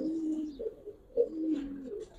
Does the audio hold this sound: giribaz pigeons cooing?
yes